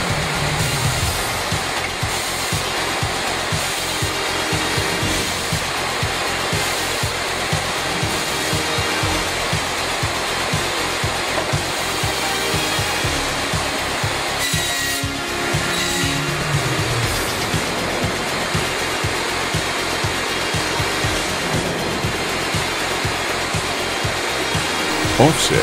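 An automatic woodworking machine cutting offset and angled tenons, a continuous loud whirring motor drone with a brief change in pitch midway, steady and close.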